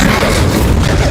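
Incendio fire spell in Hogwarts Legacy, one loud, short burst of roaring flame with a booming, blast-like texture, close and full, with no speech.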